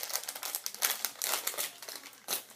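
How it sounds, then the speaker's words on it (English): A resealable boxy snack package of Japanese cream-filled cookies is opened by hand, its plastic wrapper crinkling and crackling in close, irregular bursts with no talk over it. "So let's open our package of"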